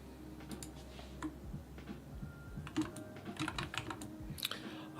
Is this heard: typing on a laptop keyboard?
yes